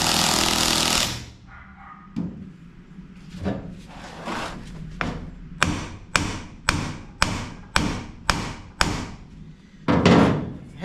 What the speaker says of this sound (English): Give it some taps and we'll hit it again.